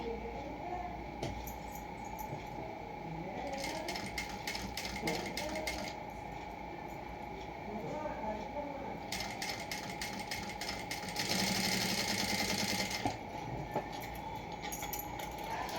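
A sewing machine stitches the waist belt onto a plain blouse, a fast clattering mechanical rattle running in two bursts with a pause between, close and fairly quiet.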